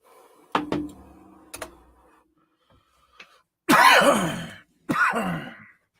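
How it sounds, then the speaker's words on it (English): Several separate coughs and throat-clearing sounds from one person at a small group gathering, close to the microphone, with brief isolated knocks before a pair of harsh, louder coughs near the end. "Was trying not to cough in everybody's ear"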